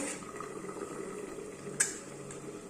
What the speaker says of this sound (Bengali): আর এখানে পরোটা ভাজছি